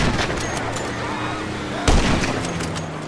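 Gunfire in GTA 5: one loud, sharp shot bursts out against a dense backdrop of game noise and music, with a few fainter cracks and thumps around it.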